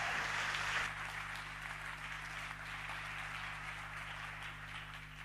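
Conference audience applauding at a startup event, a broad steady wash of clapping that is loudest at the start and then holds at a lower, even level under a constant low hum.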